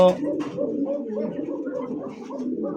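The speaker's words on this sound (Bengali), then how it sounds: "এই দেখেন চিচি করতেছে, এটাও চিচি পরের বাচ্চা" Pigeon squabs make soft calls among adult pigeons at a pigeon sale, heard close by and mixed with people talking.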